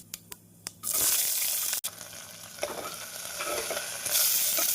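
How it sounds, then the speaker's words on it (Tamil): Cloves, cardamom, star anise and fennel hitting hot oil for a vegetable white kurma: a few light taps, then a sudden loud, steady sizzle that keeps crackling close by, with no one talking. "கிராம்பு ஏலக்காய் பூ அட்டை சோம்பு சேர்த்து நன்றாக பொரியவும்"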